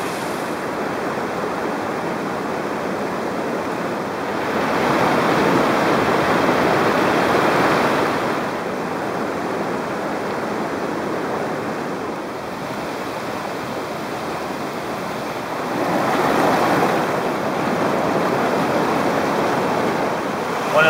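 River water rushing steadily, a broad continuous roar that swells twice as people slide into the current.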